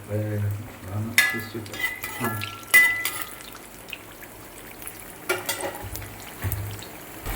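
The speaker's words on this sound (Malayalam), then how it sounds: "എണ്ണ ചൂടായി കഴിഞ്ഞപ്പോൾ കടച്ചക്ക ചീൻചട്ടിയിലോട്ട് എണ്ണയിലോട്ട് ഇട്ടിരിക്കുകയാണ്" Breadfruit pieces frying in hot oil in an iron frying pan for a breadfruit 65 snack: a soft, steady bubbling sizzle punctuated by scattered clinks and clattering knocks of utensils against the pan.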